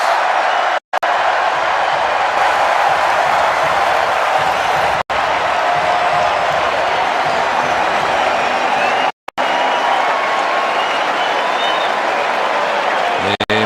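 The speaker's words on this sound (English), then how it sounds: "A mock cheer of sorts." A baseball stadium crowd at a Phillies–Reds game gives a mock cheer after a Giants run scores, a steady, loud wash of crowd noise and scattered applause that holds for several seconds with brief dropouts.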